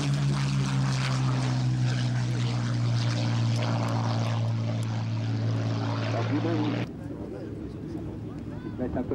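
A propeller fighter plane at an airshow drones loudly with a steady engine hum, then drops off abruptly, while a commentator speaks French over it.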